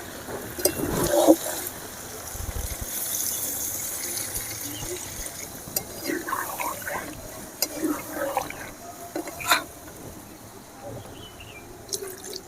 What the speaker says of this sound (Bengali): এবারে আমি সামান্য জল ঢেলে দেবো মাংসতে।